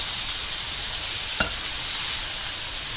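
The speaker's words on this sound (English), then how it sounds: "We're gonna cook the shrimp." Constant loud hiss of shrimp frying over high heat in a pan for shrimp fried rice, broken once by a single sharp tap midway; no voices.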